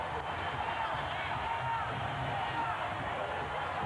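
Sellout arena crowd of 19,023 on their feet at a tied NBA basketball game late in the fourth quarter, a steady loud roar of cheering under a commentator's voice.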